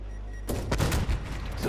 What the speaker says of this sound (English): Loads of gunfire from the back or the left.